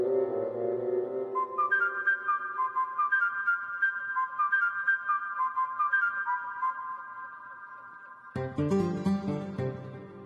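Mobile phone ringtone playing a repeated bright whistled melody phrase loudly and close, running continuously before a denser burst of music near the end.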